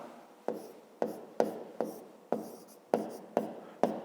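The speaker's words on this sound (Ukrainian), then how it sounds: "Записуємо тоді так." Pen or pencil strokes on paper as numbers are written out for a fifth-grade maths exercise: about eight short, close scratchy bursts in a loose, uneven rhythm, with no talking.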